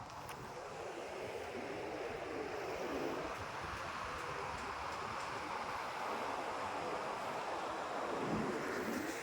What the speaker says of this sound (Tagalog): Actually hanggang ngayon, malakas pa naman yung alon.